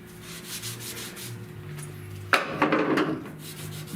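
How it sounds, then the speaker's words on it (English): A red scuff pad rubs across a car door jamb during paint prep, giving soft, close scratchy strokes, then a louder burst of vigorous scrubbing halfway through. "you can scuff this whole thing with a red pad if you want to"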